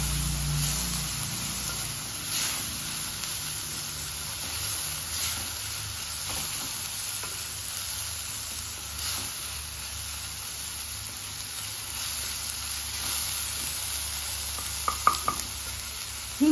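Chopped tomato, one medium-sized, stirred through a sizzling pan of matki bhaji, with steady frying hiss and repeated scraping stir strokes that run unbroken for the whole stretch, no voices.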